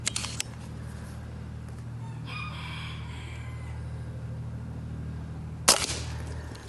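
A BRK Ghost .30 air rifle fires slugs at a target, with two sharp, crisp cracks several seconds apart against a quiet outdoor background where a rooster crows in between.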